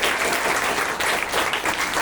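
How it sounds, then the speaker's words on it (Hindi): Children in a classroom clap steadily together for Blue House, a dense, continuous patter of many small hands held close and loud throughout with no voices over it. "ब्लू हाउस के लिए ताली बजाएंगे"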